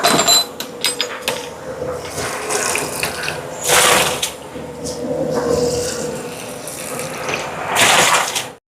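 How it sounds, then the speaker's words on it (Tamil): Tap water runs steadily into a sink as rice is rinsed for a large batch of chicken lunch meant for about a hundred people, with bursts of splashing and some faint background voices. "அரிசியை கழுவி எடுப்போம்"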